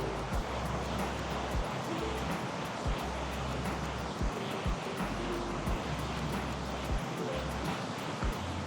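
Steady ocean surf washing onto a sandy beach in Navarre, Florida, a continuous broad roar with heavy wind rumble buffeting the microphone throughout.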